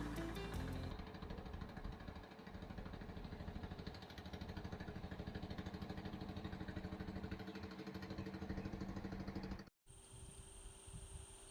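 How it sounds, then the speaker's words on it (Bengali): A small fishing boat's engine putters steadily on open water near the Sundarbans mangroves, a close, even rhythmic chugging that drops out briefly near the end before resuming. "এই নৌকাটা কিন্তু ওই দ্বীপটা থেকেই আসছে মাছ ধরে।"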